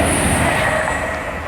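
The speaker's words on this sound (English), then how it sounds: "train was approaching platform 2 because it was going that fast" Train unit 185129 races through platform 2 at Earlestown station on the Liverpool and Manchester line without stopping, a loud, close, continuous rush of wheels with a high squealing ring.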